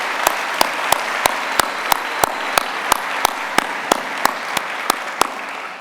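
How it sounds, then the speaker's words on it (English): Audience at an MBA for Executives commencement ceremony, heard as a run of evenly spaced single claps, close and regular, about three per second under a soft hall ambience. "please join me in a round of applause to our faculty and staff"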